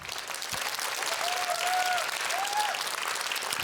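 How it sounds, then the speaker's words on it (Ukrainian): An audience at a stand-up comedy show breaks into loud, sustained applause, a thick, even roar of clapping with a couple of faint whistles rising through it. "Дуже дякую, що ви мені аплодуєте"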